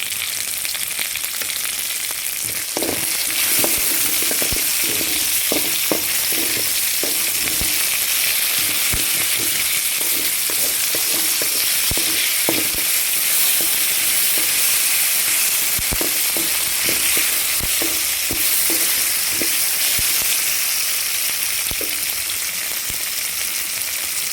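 Urad dal frying in hot oil for a drumstick leaf thuvaiyal, a steady sizzle scattered with many small popping crackles as the lentils fry, close and continuous, with no voices.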